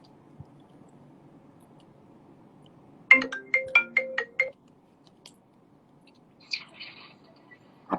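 A phone ringtone for an incoming call plays a quick run of bright, rising beeping tones up close against a quiet room, followed by a few fainter clicks and chirps.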